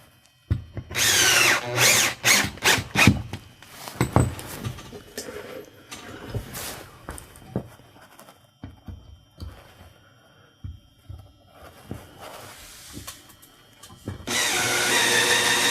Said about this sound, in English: So we can go ahead and throw a few screws in here.